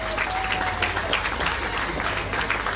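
Dense audience clapping fills a hall during an award presentation at a pageant ceremony, continuous and fairly close, with no break in the applause.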